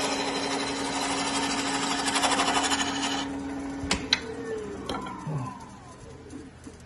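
A wooden turkey call turns on a lathe in a home garage, a steady buzzing motor hum with tool chatter on the wood, then the machine stops and a few clicks and knocks follow, with no talking.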